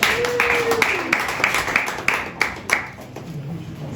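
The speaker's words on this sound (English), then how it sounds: "Let's give Siobhan a round of applause." A round of audience applause at a real estate talk greets a presenter coming up, with sparse, uneven claps fading over a few seconds while a voice or tone sounds briefly underneath.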